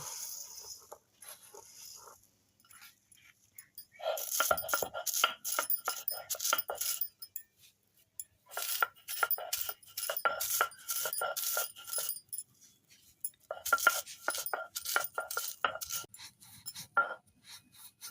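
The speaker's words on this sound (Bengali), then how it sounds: "মুড়িগুলো এবারে গুঁড়ো করে নেব।" Puffed rice being ground by hand on a stone grinding slab (shil-pata), heard as close, repeated gritty scraping and crunching strokes in several bursts with short pauses between them.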